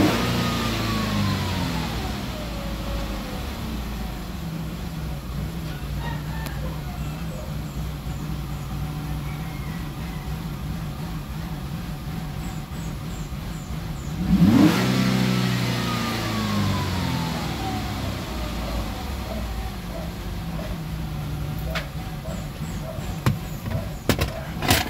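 A Mazda Tribute engine with a jerking fault runs steadily with its revs rising and falling, a brief louder surge in the middle, heard up close with no talking.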